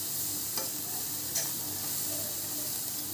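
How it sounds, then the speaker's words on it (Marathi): Misal pav masala sautés in a pan with a constant close hiss of frying, plus a couple of light spoon clicks against the pan as it is stirred. No one speaks. "नंतर छान पैकी असं मस्त परतून घ्यायचं"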